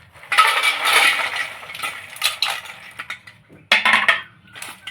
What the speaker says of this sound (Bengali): বিঙ্গোগুলো একটা গামলার মধ্যে ঢেলে নেব।